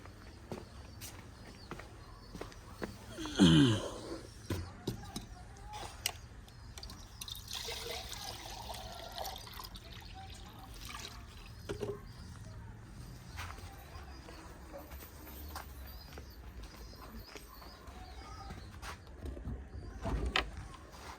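Water trickles and splashes into a dish set out for pigeons, with footsteps shuffling around it and low voices talking faintly in the background.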